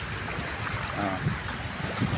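Steady wash of sea waves and wind by the shore at Diguisit, Baler, Aurora, a continuous broadband rush with a few soft surges, no voices.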